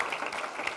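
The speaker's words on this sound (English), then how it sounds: "give yourselves another round of applause" Workshop audience applause fills the moment as a steady, dense patter of many hands clapping at moderate distance, with no voices.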